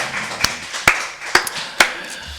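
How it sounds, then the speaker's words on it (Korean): A church congregation claps in unison at a Korean Wednesday service, four crisp, evenly spaced claps a little under half a second apart over faint room noise. "우리 살아계신 하나님께 박수를 한번 드리겠습니다"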